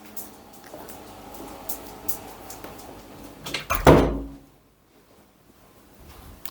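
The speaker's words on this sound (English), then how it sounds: "I just close this door." A cooking appliance door is swung shut with one firm, close thud after some light kitchen handling noise, then near silence.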